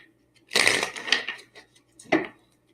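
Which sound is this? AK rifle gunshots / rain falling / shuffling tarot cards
shuffling tarot cards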